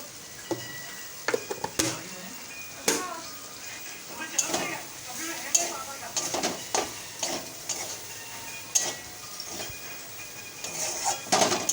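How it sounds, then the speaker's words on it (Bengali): Fish fries in a pan with salt while being stirred, a soft background sizzle broken by frequent sharp scrapes and clinks of the utensil against the pan in an irregular rhythm. "লবণ দিয়ে ভালো করে ভাজা ভাজা ভাজা করে নেব।"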